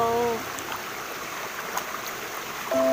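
A river flows steadily at a crossing point, a broad, continuous rush of water heard up close, with a voice briefly present at the start and end.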